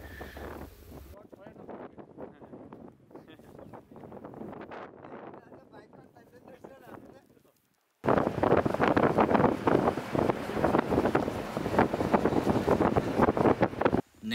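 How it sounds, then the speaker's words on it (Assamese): Strong gusty wind buffets the microphone outdoors during landscape painting in Shillong, a loud rushing rumble that turns much louder and harsher in the second half. "বহুত বেছি বতাহ"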